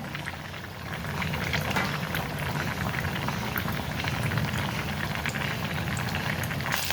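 Vada frying in hot oil, a dense steady bubbling sizzle that swells after the first second and holds evenly, close and moderately loud with no talking.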